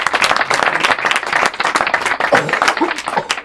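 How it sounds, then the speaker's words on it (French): Audience applause for two performers at a live French stage show of astonishing mind-reading acts: dense, loud, steady clapping from a crowd filling the whole stretch without letup. "on peut applaudir madame et monsieur pour cette prestation"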